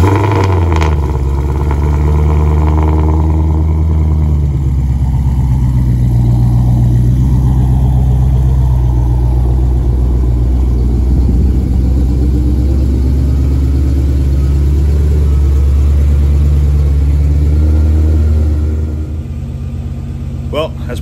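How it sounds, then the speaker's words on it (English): A twin-turbo Coyote V8 in a race car fires on a cold start and settles into a loud, deep, steady rumbling idle up close, running for about twenty seconds before cutting off. "Let's do a little cold start for you guys."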